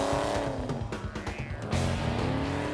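A big Plymouth Superbird with a 440 V8 is driven hard, its engine loud and close as it revs and pulls, the note rising and falling through gear changes with a brief chirp of tyre noise.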